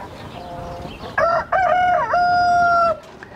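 An Australorp rooster gives one loud, close crow that rises and holds before dropping off, over a soft farmyard background of hens.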